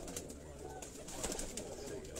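Golden 007 breed pigeons cooing softly and steadily at a rooftop loft, with a few brief wing or movement sounds and no talking.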